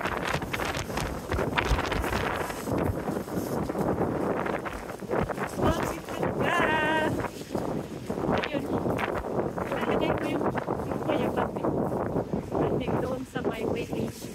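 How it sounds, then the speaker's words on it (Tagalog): Strong wind buffets the microphone outdoors on a winter day, gusting continuously and loudly over the whole stretch, with a person talking now and then beneath the roar. "Mahangin na guys."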